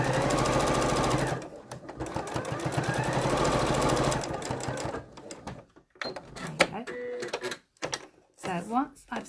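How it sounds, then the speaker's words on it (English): Sewing machine stitching a 1 cm seam in fabric, a loud close buzzing run for about four seconds broken by a brief pause, then it stops and people speak. "when I stitch, I'm lining up the edge of the foot to the edge of the fabric and stitching a 1 centimeter seam"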